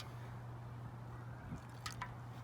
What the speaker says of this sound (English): And if you add a bit of water, just like so, the water is instantly absorbed.